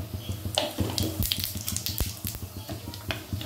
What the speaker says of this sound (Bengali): এবারে ওই তেলের ভেতরে দিয়ে দিচ্ছি একটা শুকনো লঙ্কা আর তেজপাতা ফোড়ন, আর সাথে দিয়ে দেব সামান্য একটু জিরে ফোড়ন